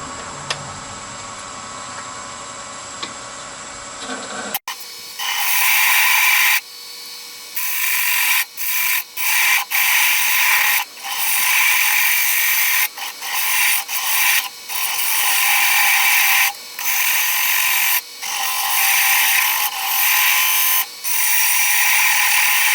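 Gouges cut a darning egg on a wood lathe, producing a loud, harsh scraping rasp in repeated strokes broken by short gaps, after a quiet opening stretch; close up, with no talk.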